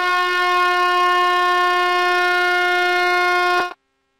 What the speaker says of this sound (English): should sound one prolonged blast.